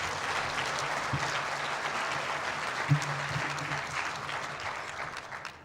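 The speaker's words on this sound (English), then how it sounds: "one more round of applause for all of our TRIO achievers." Applause at an evening gala honoring TRIO achievers, a steady broad wash of clapping from a banquet audience that holds evenly throughout, with a few louder individual claps poking out and fading slightly at the end.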